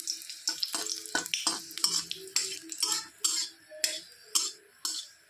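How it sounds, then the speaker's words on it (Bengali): One dried red chili fries in a little oil in a wok while a metal spatula strikes and scrapes the pan in quick, irregular clinks over a soft, low sizzle, close and fairly quiet. "লঙ্কাটাকে ভালো করে ভেজে নেব।"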